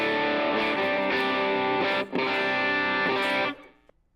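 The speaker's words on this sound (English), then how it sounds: "This is a combination overdrive and boost pedal." Electric guitar played through a Keeley D&M Drive overdrive and boost pedal with the overdrive engaged, sustained distorted chords ringing loud and steady for about three and a half seconds, a brief gap near the middle, then decaying to silence.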